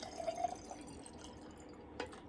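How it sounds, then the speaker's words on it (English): Water is poured into a cup for a sound and pitch lesson, a faint trickle with small splashes and drips that ends with a brief splash near the end, quiet and close, without speech. "we're going to put the most amount of water in here"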